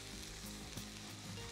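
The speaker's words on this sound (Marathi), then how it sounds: "हा मसाला आपला तेलामध्ये छान परतून येईल" Masala spices frying in oil in a kadai, for a spicy okra (bhindi) curry, giving a steady dense sizzle with faint stirring scrapes throughout, close and even.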